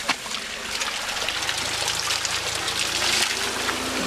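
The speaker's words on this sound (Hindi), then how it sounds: "ये चेक करो भाई कितना प्योर वाटर आ रहा है" Pure, icy mountain spring water flowing into a bottle outdoors, a steady close rushing and trickling stream that fills the whole stretch, loud and continuous with no talking.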